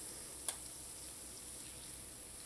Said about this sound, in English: now we're going to let them fry about 2 to 3 minutes on either side